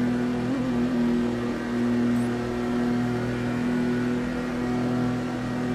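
Ferrari Dino 246 GTS held at top speed in Test Drive Unlimited 2, a steady sustained engine drone with a constant whirring tone, moderately loud and unbroken, no talk.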